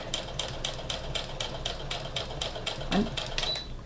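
A home sewing machine stitches a quarter-inch seam on a cloth face mask, running in a steady rapid rhythmic clatter of needle strokes close by, with a brief soft bump near the end and no talk.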